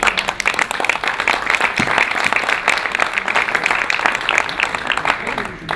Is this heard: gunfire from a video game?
no